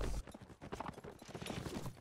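War horses gallop in the medieval combat game Mount and Blade, a busy, continuous drumming of hoofbeats that stays fairly loud and close throughout, with no voices.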